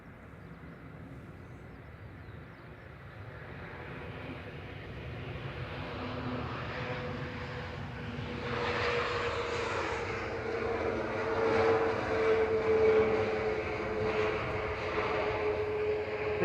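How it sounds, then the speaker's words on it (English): An easyJet Airbus A321neo arriving from Lisbon at Manchester Airport approaches with a steady engine roar that builds gradually and stays loud, with no talking. "EasyJet coming in from Lisbon here, flight 6727 OEISE. This is little A3, well, not little, but a longer A321 Neo."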